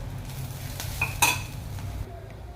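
Tempering of cumin, onion, chili and curry leaves sizzling in a pan for horse gram saaru, a soft, steady frying hiss with a few sharp metallic spoon clinks near the middle, close by and without talk.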